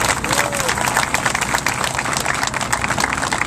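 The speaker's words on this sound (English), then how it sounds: "I want you all to give a hand of applause to John Johnson, your city councilman," Political rally crowd applauding a city councilman, dense steady clapping filling the space for the whole stretch, with cheers and faint voices mixed in.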